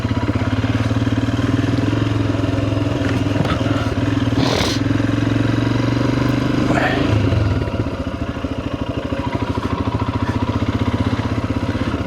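Royal Enfield Himalayan motorcycle on the move, a steady loud engine drone close to the rider, easing off near the end as it slows to pull over.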